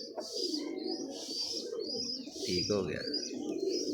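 Close, repeated cooing comes from a young female pigeon being handled at a bird show, soft rolling coos over a low murmur, with someone speaking briefly.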